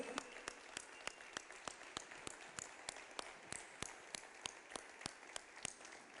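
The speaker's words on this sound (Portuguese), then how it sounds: "Vamos dar uma salva de palmas para Jesus." A church congregation claps together during a communion service, a faint but crisp run of evenly spaced claps, about two to three per second, keeping a steady beat over a soft background hiss.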